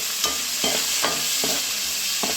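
Sliced onions fry with salt for a beef and coconut dish, a steady close sizzle broken by periodic scraping stirs, about four strokes in a few seconds, with no talking.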